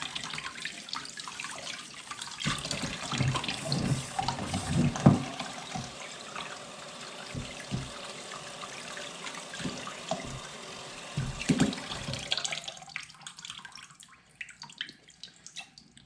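Cold tap water runs and splashes over a K&N air filter being rinsed in a sink, an uneven gushing flow with drips and surges, close up, tapering off near the end.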